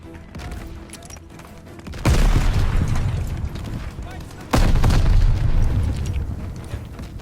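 Two heavy grenade blasts go off in the shooter game Call of Duty Vanguard, a couple of seconds apart and loud, each followed by a rumbling roar over ongoing game noise.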